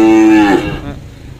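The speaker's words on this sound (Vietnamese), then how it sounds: "Bò này em nói dữ lắm nha" A cow on a cattle farm gives a single loud, close moo, a strong drawn-out call that falls off and fades within about a second.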